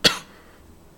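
One sharp, close cough bursts out at the start, then fades into quiet room tone with no talking.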